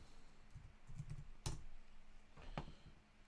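Keys clatter on a computer keyboard while a search term is typed into a 3D design website: a few sparse, crisp taps with one sharper, louder strike near the middle, close by and with no talking.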